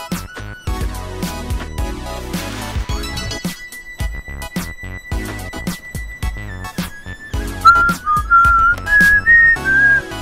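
Someone whistles a wavering melody over rhythmic game music in Hearts of Iron 4, the bright whistled notes sliding and growing louder toward the end.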